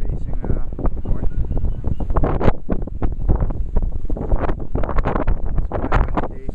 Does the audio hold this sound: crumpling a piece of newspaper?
no